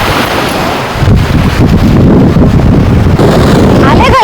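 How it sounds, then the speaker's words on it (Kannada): Big sea waves crashing against rocks at Sasihithlu beach near Mangaluru, where two rivers meet the sea. Loud, rumbling surge and heavy wind buffeting the microphone, with a voice speaking faintly underneath. "ದೊಡ್ಡದ ಅಲೆಗಳು ಬಂದು ಬಂದು ಕಲ್ಲಿಗೆ ಅಪ್ಪಳಿಸ್ತಾ ಉಂಟು, ಅಪ್ಪಳಿಸಿ ವಾಪಸ್ ಹೋಗ್ತಾ ಉಂಟು"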